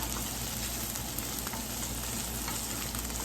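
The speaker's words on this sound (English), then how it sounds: "When you fry your onions, they smell like steak." Onions frying in a pan give a dense, steady sizzle, close and continuous over a few seconds with no talking.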